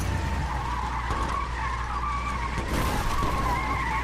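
A car skids and slides in a video game, a steady, loud engine roar with a sustained tire screech running throughout, swelling slightly near the end and heard alone without talk.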